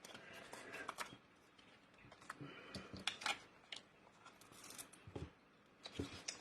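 Scissors handled at a craft desk while cutting foam tape: scattered light snips, clicks and rustles, close and fairly quiet, arriving in irregular bursts.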